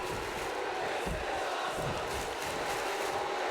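Steady crowd roar from a WWE 2K19 video game wrestling match, a dense continuous wash of cheering with no breaks, mid-level and even throughout.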